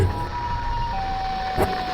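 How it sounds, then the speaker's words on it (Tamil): A steady, loud siren wail from a Siren Head horror short film holds one tone throughout, with a brief thump near the end. "ஒரு ஏதோ சைரன் இது மாதிரி கேட்டுச்சு."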